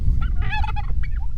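Pasture-raised heritage turkeys let out a short burst of warbling gobbles, close by and fairly loud, over a low outdoor rumble.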